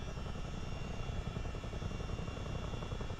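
A CH-47D Chinook helicopter idles and hovers in a flight simulator, giving a dense, continuous rotor-and-turbine roar with a fast, even chop that stays loud and steady throughout.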